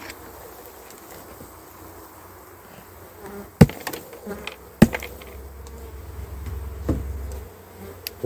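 Honeybees buzz steadily around an opened hive in August, a close, continuous drone punctuated by a few sharp knocks and clacks from handling the frames.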